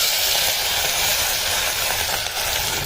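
Asafoetida dropped into hot oil gives off a loud, continuous close sizzle, an unbroken hiss with no speech over it.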